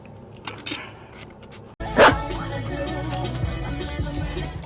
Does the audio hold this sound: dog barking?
yes